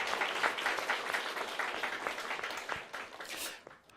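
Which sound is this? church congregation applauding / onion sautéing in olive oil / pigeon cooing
church congregation applauding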